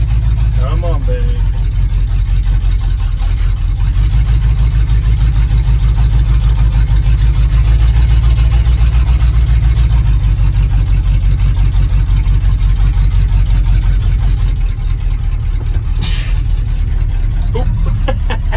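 A cold Ford F350 truck engine idles steadily and loudly throughout, a continuous low rumble with a brief clatter near the start and a voice speaking over it.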